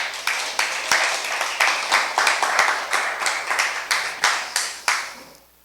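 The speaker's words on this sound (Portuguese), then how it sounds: "Agora dá uma salva de palmas aí para o Senhor Jesus." A church congregation claps in praise to Jesus, sharp hand claps falling in a fairly regular rhythm, loud and close, then fading out at the end.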